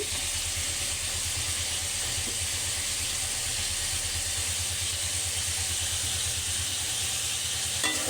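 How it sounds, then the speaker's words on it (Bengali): Dried bamboo-leaf fish sizzles steadily in a hot pan as it is fried and stirred, a loud, continuous crackling hiss with a low, even pulsing underneath throughout. "এখন একটু নেড়ে চেড়ে নেব। মাছটা ভালোভাবে কষিয়ে নিতে হবে।"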